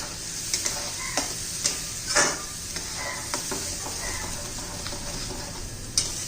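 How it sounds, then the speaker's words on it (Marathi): A ground paste of coconut, niger seed, ginger, garlic and coriander sautéing in hot oil, a close, steady sizzle broken by sharp spatula scrapes and taps against the pan, no talking. "मग मी हा वाटून घेतलेला वाटण घालून घेते खोबरं खुरासणी म्हणजे गाळ आलं लसूण कोथिंबीर हे छान असं तेलामध्ये परतून घेऊया"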